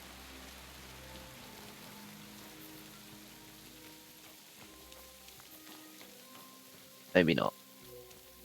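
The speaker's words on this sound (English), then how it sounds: "it's still fucking raining, man." Steady rain falls in Kingdom Come Deliverance 2, a soft continuous hiss of downpour throughout, with faint game tones underneath and a brief loud burst of noise near the end.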